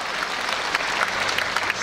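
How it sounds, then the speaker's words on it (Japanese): A crowd at the eve festival of the Hakata Dontaku Port Festival in Fukuoka gives a big round of applause, a steady, close wash of many hands clapping throughout with no voices standing out. "皆様大きな拍手を送ってください。"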